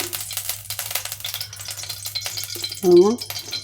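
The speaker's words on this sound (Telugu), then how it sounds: "జీడిపప్పు ఎండు ద్రాక్ష వేయించుకుందాము" Cashews and raisins fry in ghee for rava laddu, producing a fine, uneven crackle and light stirring clicks, with a short voiced tone near the end.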